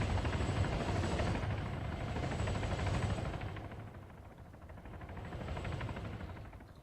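A helicopter in flight during flight training keeps up a steady, broadband rotor and engine roar, easing off slightly midway and then swelling again, with no voices.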